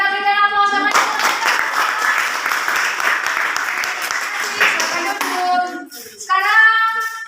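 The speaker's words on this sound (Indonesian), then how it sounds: "Oke, kita berikan aplaus sama" Audience applause at a group presentation in a classroom: a dense burst of clapping runs for several seconds, framed by a voice before and after.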